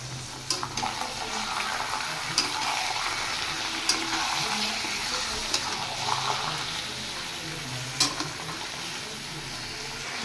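Mutton pieces going into a pot of hot oil for tehari, a continuous moderate sizzle with a few sharp clinks and knocks scattered through, heard up close at a fairly soft level.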